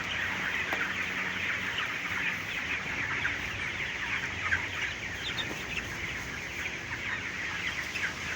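Chickens in a hot-weather poultry shed cluck steadily as a dense, overlapping flock murmur, moderately loud and unbroken, with no talking.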